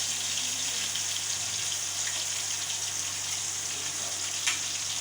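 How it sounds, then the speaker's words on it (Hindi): Fish slices for biryani frying in hot oil, a steady close sizzle and crackle running throughout with a small pop near the end, no voices. "इतने मज़े की फिश फ्राई हो रही है"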